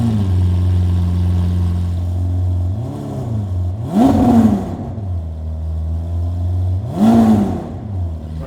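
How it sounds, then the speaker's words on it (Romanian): A Lamborghini Aventador fitted with an ArmyTrix exhaust idles with a deep burble, then snaps through two sharp, loud revs a few seconds apart, each rising and falling quickly back to idle. "poți face mașina să se audă foarte agresiv"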